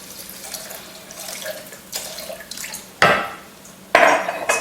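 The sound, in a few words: filtered water running for veggie stock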